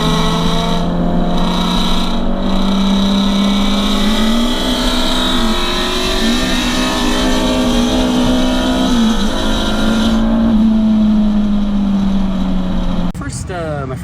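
K-swapped Mini Cooper at roller races, its engine droning loud and steady with pitch rising and falling through shifts, running for about thirteen seconds before cutting off abruptly near the end.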